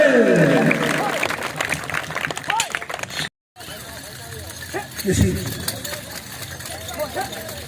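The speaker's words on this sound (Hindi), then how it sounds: "एक दफा फिर तालियां हो गए।" A crowd at a spring festival applauds with dense, crackling clapping while a voice talks over it; a brief dropout interrupts midway.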